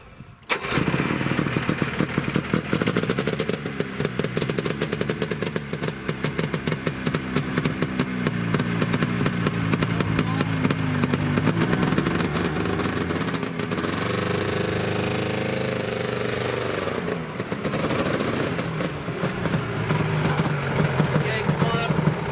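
A Mercury 220 ER snowmobile, an early sled with an all-Mercury motor, already warm, starts almost at once. It runs loud and steady at close range, its buzzing engine note wavering slightly as it idles and revs.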